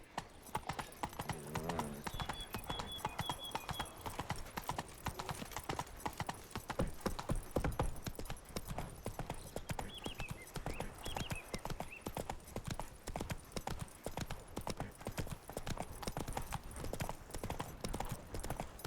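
Horse galloping along a road in The Witcher 3 video game, with rapid rhythmic hoof clip-clop throughout, a brief whinny near the start, steady and fairly close.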